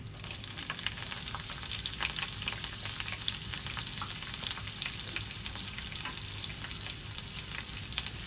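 Peanuts, green chillies and curry leaves fry in hot oil in a pan, a steady close sizzle with crackling pops and light stirring throughout, no voices.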